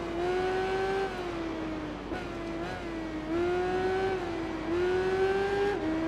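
A BMW motorcycle engine in the Tourist Trophy racing game holds a high, steady whine, rising and dipping with gear changes and throttle across the stretch, loud and continuous.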